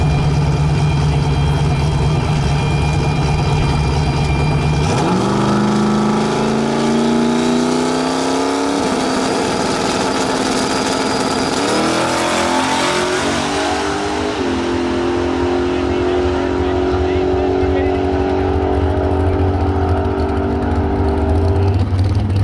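A drag car's engine idles, then roars loud and close as it accelerates down a drag pass, the pitch climbing through several gear changes before holding at a high steady drone.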